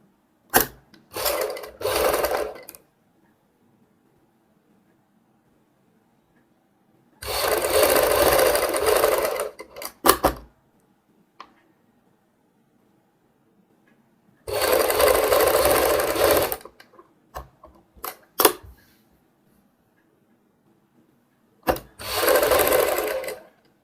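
A sewing machine stitches a kurti neckline in four separate bursts of a few seconds each, a close, whirring chatter with quiet pauses between runs.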